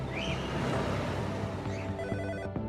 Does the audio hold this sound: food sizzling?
no